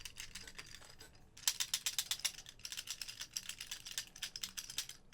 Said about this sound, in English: Listen to that rattle.